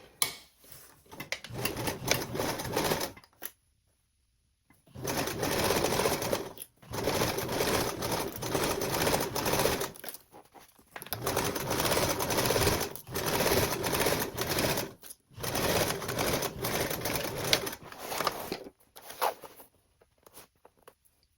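A sewing machine stitches a tote bag seam in several bursts of rapid mechanical chatter, each running a few seconds, separated by short silent pauses.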